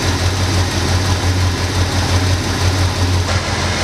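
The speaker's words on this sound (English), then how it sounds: "It's the quietest that I've ever heard this engine run." A car engine fitted with an aftermarket dual exhaust idles smoothly and quietly, with a steady low rumble close by and no knocks or ticks.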